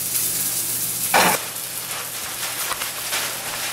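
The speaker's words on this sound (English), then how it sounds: "I'm going to let it finish cooking in the hot pan." A Norwegian salmon fillet sizzles in a hot pan with a steady, close, crackling hiss and a brief louder burst of spattering early on, no voices.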